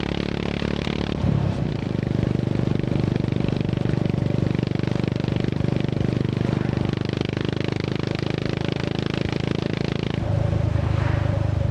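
A Honda GB350 single-cylinder motorcycle fitted with a Black Widow 200mm carbon-tip exhaust and DNA air filter runs with a steady, throaty engine drone, rising and settling through revs over a continuous low rumble, with no talking.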